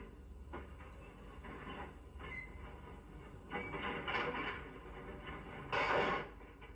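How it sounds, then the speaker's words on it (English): Freight cars are coupled together by a brakeman in a rail yard, with muffled clanks and rolling rumbles building to a louder burst near the end, at a moderate distance. "A brakeman couples together the cars for our train."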